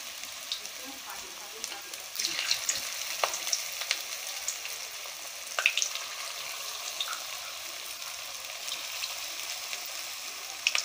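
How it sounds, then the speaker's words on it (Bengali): Chicken pieces frying for chili chicken in hot oil in a heated wok, a steady close sizzle and crackle with scattered sharp pops and small spatters, carrying on alone without talk. "তেল গরম হয়ে গেছে, এবার দিয়ে দেবো মাংস"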